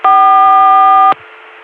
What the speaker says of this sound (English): so here we are sitting on an Atlanta CCSA dial tone